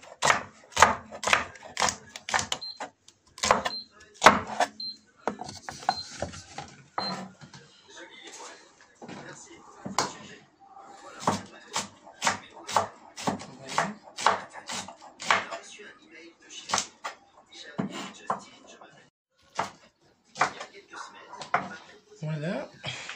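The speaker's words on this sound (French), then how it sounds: "je suis en train de couper tout" A kitchen knife chops food on a board at home in quick, uneven runs of sharp taps with short pauses between them, while a person talks quietly in French underneath.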